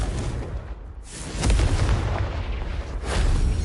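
A Confringo blasting spell in Hogwarts Legacy erupts in a loud, rumbling explosion, with a heavy booming burst that swells and rolls on for several seconds, close and dense.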